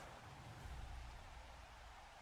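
Steady rain falls in the Blood Bowl 3 video game during a Dwarves versus Orcs match, a soft, even wash of noise that holds unchanged from start to end with no voices over it.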